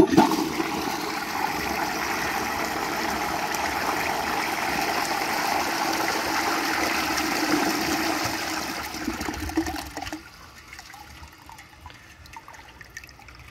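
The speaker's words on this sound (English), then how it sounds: "So let's give this 100-year-old beauty a flush." A 1922 Standard Ejecto toilet, a century-old fixture, gives a loud, close rushing flush for about ten seconds, then drops off to a softer trickle and refill.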